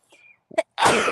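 A single human sneeze, a short intake of breath followed by a loud, sharp burst of air, close and alone.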